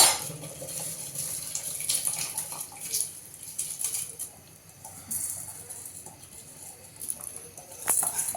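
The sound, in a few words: water poured into a pot of palak pulav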